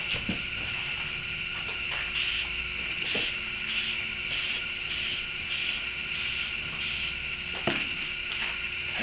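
Spray paint is applied in coats to interior trim plastics from a Camaro or Trans Am, with a series of short hissing bursts from the can repeating every half second or so, separated by faint clicks and light handling noises.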